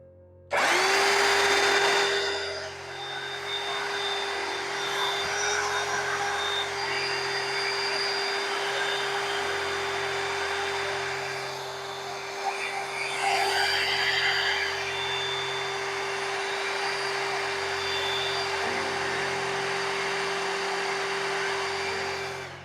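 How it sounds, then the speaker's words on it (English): A vacuum cleaner runs continuously at close range with a steady loud whine, used to clean off a custom-painted Ghostbusters Afterlife Neutrona Wand toy prop being masked for painting; no talk over it. "I'm gonna go ahead and vacuum this off."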